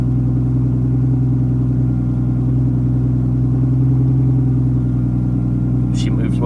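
An old, low-riding car's engine drones steadily in second gear, a loud, even rumble heard from inside the cabin, with a brief higher rattle near the end.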